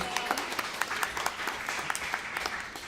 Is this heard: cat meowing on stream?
no